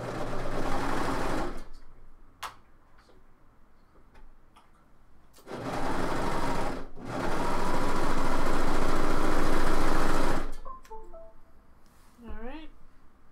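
A sewing machine stitches the shoulder seam of a top in three loud, sustained runs separated by short pauses, close and even, with light handling noises after.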